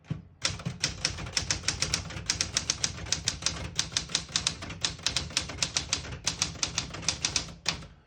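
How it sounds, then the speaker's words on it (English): A 1975 Smith-Corona Galaxie Twelve portable typewriter typing a sentence in red ribbon, a rapid steady stream of crisp close key strikes with a brief pause near the end. "I'll type a sentence in red on the next line."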